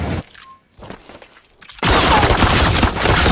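Quiet, sparse noises give way to a sudden, loud burst of rapid gunfire in Super Mecha Champions that continues as a dense, crackling barrage.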